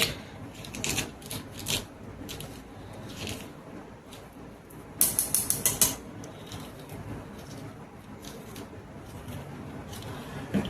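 A peeler is twisted around inside kantola (spiny gourd) to scrape out the seeds, making close, scratchy rasping and clicking strokes in short bursts, with a sharper cluster of scrapes midway.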